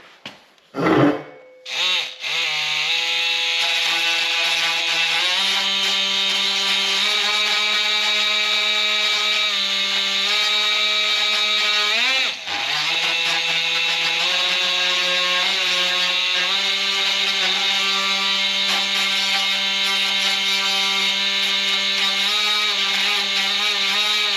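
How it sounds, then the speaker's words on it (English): An oscillating multi-tool cuts into wood craftsman molding in a tiny house, giving a loud, steady high-pitched buzzing whine that runs almost unbroken for over twenty seconds after a brief start-up. "I'll probably be better off with the multi-tool and just nibble some of that out of there"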